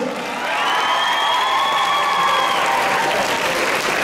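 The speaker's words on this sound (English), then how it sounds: "Big round of applause" A large convention audience applauds at the close of a cosplay masquerade awards show, steady dense clapping with cheering and whoops rising over it, loud and sustained throughout.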